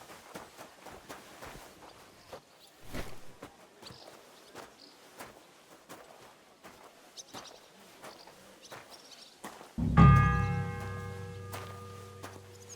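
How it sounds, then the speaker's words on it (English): A church bell in the video game Kingdom Come: Deliverance II strikes once, loud and near, its ringing tone lingering to the end after a stretch of soft footsteps and ambience. "The first bell. Another 11 to go."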